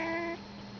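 A cat gives one short, faint meow of protest while its claws are clipped, a brief tonal cry followed by quiet.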